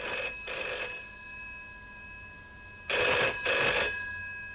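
A classic telephone bell rings in two double bursts separated by a pause of about two seconds, clear and fairly close with no talking over it.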